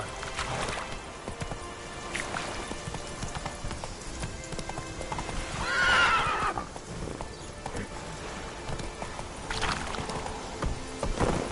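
Roach, a horse in The Witcher 3, sounds a game whinny and hoof clatter over a loud continuous ambient bed, with a bright neigh rising clearly near the middle.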